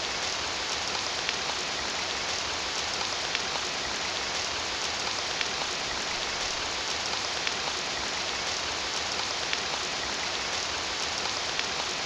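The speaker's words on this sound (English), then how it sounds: "Love that looping rain sound effect there." Steady looping rain from an RPG Maker 2003 game, a dense even hiss of rainfall with faint scattered drop ticks, continuous and unchanging throughout with no voices.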